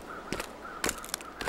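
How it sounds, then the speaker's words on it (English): Crows caw in the wintry wilderness of The Long Dark, three harsh calls spaced about half a second apart over a faint steady hum, moderately close and with no talking. "And there's crows flying around"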